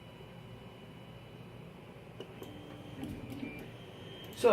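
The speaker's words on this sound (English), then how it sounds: "Third attempt on the printer to get a successful print" A Tevo Tornado 3D printer works on a statue print, giving a steady low mechanical hum and whir with faint ticking stepper movements, growing slightly busier toward the end, with no voices.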